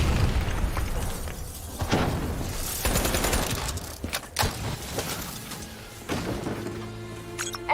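Loud, rumbling explosions and bursts of gunfire fill a Call of Duty: Black Ops III battle scene, with repeated heavy booms and crackling blasts in a dense, continuous barrage.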